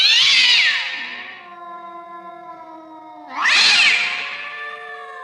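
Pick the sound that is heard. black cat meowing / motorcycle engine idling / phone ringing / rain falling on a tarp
black cat meowing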